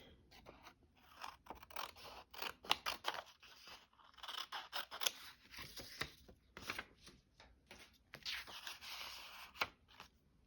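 Scissors cutting out paper for a junk journal, with close, quiet snips in irregular bursts and some rustling of the sheet between cuts.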